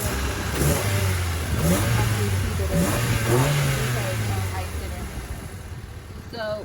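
A Honda Civic engine fitted with new headers revs up and down several times in a row, each rising and falling pitch sweep loud and close, before it settles back toward idle.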